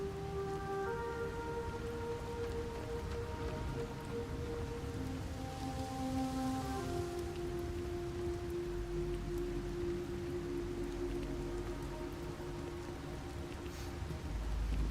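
Soft, steady rainfall in the video game Starfield hisses quietly throughout, with sustained musical tones drifting over the wash of rain.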